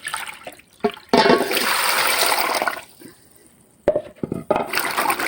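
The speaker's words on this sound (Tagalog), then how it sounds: "Huhugasan natin siya ng mga 5 beses." Papaya being washed in water in a basin, heard as bursts of sloshing and splashing with a pause between them and some knocks, close and fairly loud.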